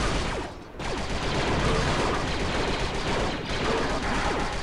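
Rapid turret fire in the Star Wars Republic Commando video game, a dense continuous barrage of loud shots with a brief pause early on and again near the end, no talking.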